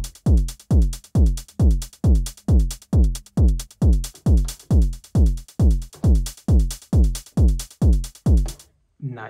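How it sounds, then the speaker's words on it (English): Modular synth techno drum pattern: a steady four-on-the-floor kick with pitched-down boomy decay on every beat and accented hi-hats ticking on top, loud and close, running about eight seconds before stopping abruptly. "I think that's like the absolute minimal drum setup you need for techno."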